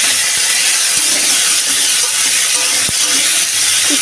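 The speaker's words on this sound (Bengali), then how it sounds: "এখন আমি যে চিকেনটা রেখেছি, চিকেনটাকে আমি ভেজে নেব" Chicken frying in oil in a pan, a loud continuous hiss and sizzle with occasional faint clicks of a utensil.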